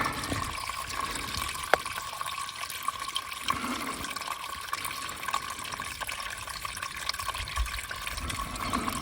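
A Grayl filter bottle fills from a small wilderness stream trickling off a rock, with soft continuous running water and gurgling close by at a low, steady level.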